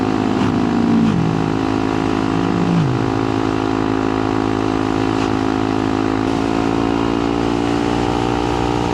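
A Honda Monkey motorcycle ridden at speed on a Scottish backroad into a strong headwind, its engine droning steadily and loud throughout with a brief pitch dip, heavy wind rush over the top.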